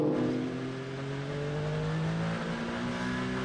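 Toyota endurance prototypes race wheel to wheel at the FIA WEC 8 Hours of Bahrain, engines droning loud and close with a steady high whine whose pitch slowly climbs and shifts as the cars jostle for position.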